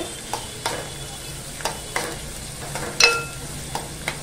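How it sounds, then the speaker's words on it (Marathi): Finely chopped onion sautéing in hot oil for a Malvani clam curry, a soft continuous sizzle with repeated scraping stirs of a spoon against the pan, close and without speech. "बारीक चिरलेला कांदा टाकून घेऊया। तो पण छान नरम होईपर्यंत ना परतून घ्यायचा आहे।"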